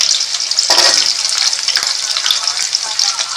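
Garlic and curry leaves sauté in plenty of hot oil in a pan, making a bright, continuous hissing sizzle up close that swells briefly near the start and then holds steady.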